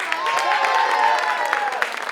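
Applause breaks out from the audience at a music recital, steady clapping with voices calling and chattering over it.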